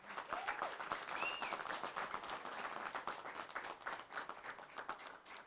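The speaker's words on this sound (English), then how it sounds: "Give yourselves a big round of applause." Sustained applause and clapping from the audience at a bench press championship, steady and dense throughout with no talk over it.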